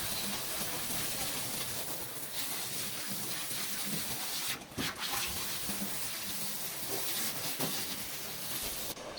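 Running water rinses shampoo off a dog being groomed, a loud, steady rushing spray that continues for about nine seconds with one brief dip near the middle.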